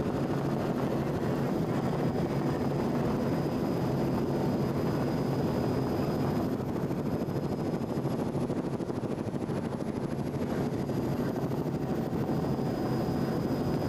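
A 27-foot Avanti powerboat racing in Class 5 on the bay during an offshore event, its engines giving a steady, broad roar with wind noise throughout, no voices.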